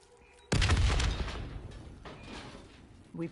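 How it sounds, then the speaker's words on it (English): A loud explosion in a PS4 video game blasts and blocks a path, a sudden heavy boom that rumbles and slowly fades, with a smaller thump near the end. "The explosion blocked our path."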